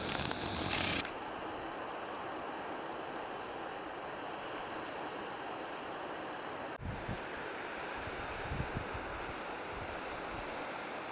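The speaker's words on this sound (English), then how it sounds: "Beautiful waterfall." A waterfall on a trail in a gem-hunting area, a steady broadband roar that continues unbroken from near to mid distance with faint creaks, no voices.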